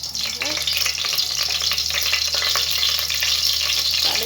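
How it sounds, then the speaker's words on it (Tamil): Mustard seeds pop and splutter in hot oil in a pan on low heat, a steady loud crackling sizzle with dense sharp pops throughout, no voices. "கடுகு வெடிக்குது"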